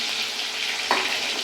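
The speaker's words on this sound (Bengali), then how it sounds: "গ্যাসটা পুরো গরম হয়ে গেছে, ধোঁয়া ধোঁয়া হয়েছে, চিরবির করছে।" Spice paste frying in smoking-hot mustard oil over a high gas flame, a loud, dense continuous sizzle with one brief sharper spatter near the end.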